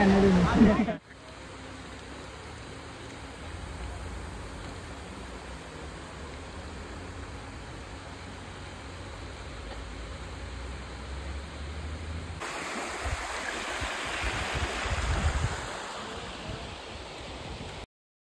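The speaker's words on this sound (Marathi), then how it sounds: "निसर्गाच्या इथे ओढा आहे बघ, ओढा" A forest stream in Sanjay Gandhi National Park, Borivali, flows as a soft, steady wash of water, fairly faint and continuous, growing broader and louder near the end after a brief louder burst at the start.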